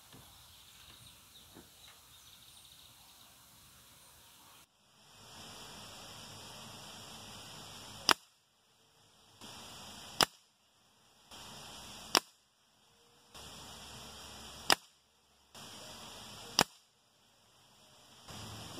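Five sharp shots from a Norica Dragon air rifle firing pellets, each a crisp snap preceded by a rising pump hiss, evenly spaced about two seconds apart, close by.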